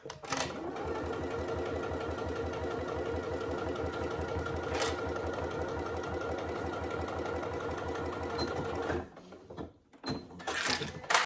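A sewing machine runs steadily, stitching along the bottom seam of a fabric wash bag at a 3/8 inch seam allowance, with a rapid even needle rhythm close up, then stops near the end with a few handling sounds.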